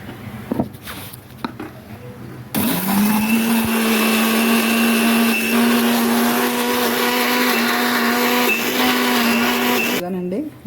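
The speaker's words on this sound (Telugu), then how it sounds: "ఇదిగోనండి మిక్సీ అయిపోయింది పచ్చడి పచ్చడి తయారైపోయిందండి" Electric mixer grinder (mixie) grinding chutney in a home kitchen, a loud steady motor whine that starts abruptly after a few quiet seconds, runs continuously, then cuts off near the end.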